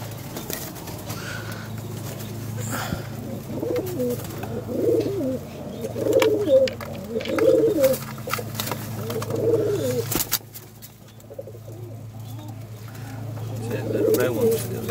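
Tippler pigeons that have just landed coo in a rhythmic series of soft, low, throaty calls at close range over a steady background drone, with someone talking intermittently.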